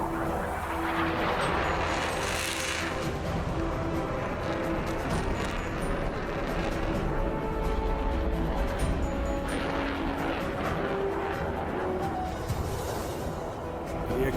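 An F-16 fighter jet roaring through an airshow display at an Independence Day show, a loud continuous engine rumble that swells and fades as it passes, with announcer-style talk over it.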